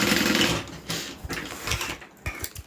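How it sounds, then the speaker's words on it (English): Sewing machine stitching the inside and outside of a bag together, a close mechanical whirring that runs in short bursts with brief pauses between them. "We're going to put the inside and outside together and sew them up"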